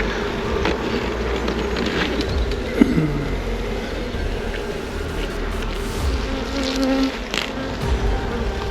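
Honeybees buzzing around an open hive as frames are inspected: a dense, continuous drone from many insects close by, steady and fairly loud, with occasional light knocks of frames being handled.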